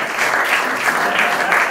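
Comedy club audience applauding a volunteer at a live stand-up show, a steady dense wash of clapping throughout with no voices standing out.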